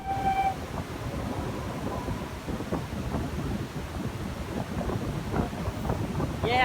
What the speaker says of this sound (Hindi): ये है अपनी दिल्ली हरिद्वार पैसेंजर।